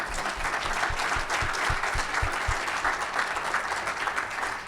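A large audience applauds steadily at a live speaking event hosted by the Cap Times, the dense clapping holding an even level throughout without speech over it.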